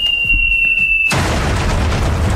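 A boom sound effect played on a Hungarian radio morning show, opening with a steady electronic tone and then a loud, sudden blast that rumbles on for over a second.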